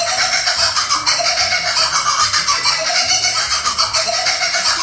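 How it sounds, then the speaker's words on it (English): Sped-up laughter of a kookaburra, an Australian kingfisher, plays as a dense, continuous run of high chattering, cackling calls at double speed, loud and steady throughout with no pause. "It was actually the sped up laughter of the kookaburra."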